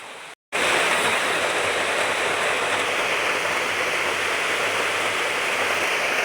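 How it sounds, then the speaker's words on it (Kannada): Light rain falls steadily outside in a continuous broadband hiss, close and even, starting after a brief cut of silence near the start and running without a break. "ಹೊರಗೆ ಲೈಟಾಗಿ ಮಳೆ ಬರ್ತಾ ಇದೆ"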